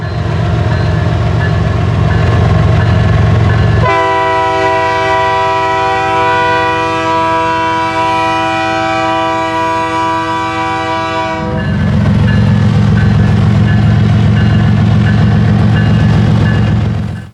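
A KCS freight train rolls past with loud, steady rumble and rail noise, its multi-chime horn blaring continuously for several seconds in the middle before the heavy rolling rumble resumes.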